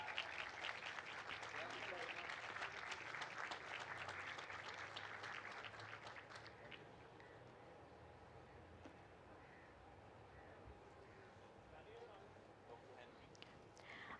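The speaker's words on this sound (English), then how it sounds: "A round of applause." Audience applause at an Islamic economics and finance conference, a steady dense wash of clapping for about six seconds that fades into a quieter room murmur.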